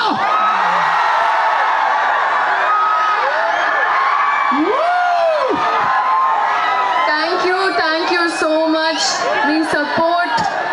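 Dense audience shouting and cheering for actress Sreeleela at a public event, a continuous loud roar of many voices with whoops and rising yells, steady throughout.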